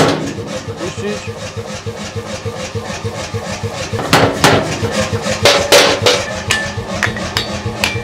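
Blacksmith's hammer blows on hot metal at a forge, irregular metallic strikes under steady workshop clatter, with louder ringing hits near the end; people talk in Polish throughout.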